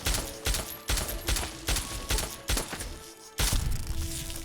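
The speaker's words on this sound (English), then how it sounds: "Oh, we got an ant. Let me just use the pistol." Pistol shots fired at an ant in Fallout: A Tale of Two Wastelands: about six sharp, evenly spaced reports, close and loud, followed by a heavier blast near the end, with game ambience between.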